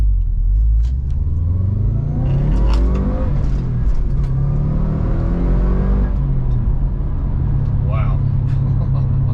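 A 2012 Subaru Impreza WRX with a turbocharged boxer engine pulls hard on boost, its revs rising and falling through the gears in a loud rumbling surge, with someone speaking briefly over it.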